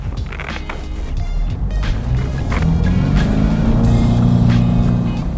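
A Subaru BRZ/GR86 with its larger engine drives on the road, heard from inside as a steady rumbling engine and road noise that swells slightly as it pulls along.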